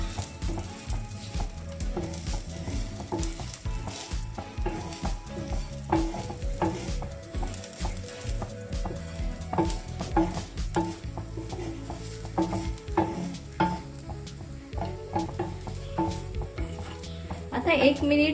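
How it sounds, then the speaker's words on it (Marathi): Spices stir-fried with onion in hot oil for a Malvani chicken curry, a steady sizzle broken by repeated scraping and stirring strokes in the pan, no voices. "आता मी ह्याच्यात सगळे हे आपले जे गरम मसाले होते ना आपण काढून ठेवले ते सगळे ह्याच्यात घालून परतून घेते।"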